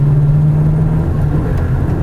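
A Citroen 11 CV Traction with its 1.9 litre four-cylinder engine pulls along the road, giving a steady low droning rumble with a firm hum that holds for two seconds, close and fairly loud, with no voices.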